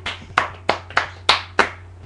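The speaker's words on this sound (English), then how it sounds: "Round of applause." A small group claps about five sharp, separate claps at a loose, even pace, each one snapping out and fading quickly, close and fairly quiet, with no talk.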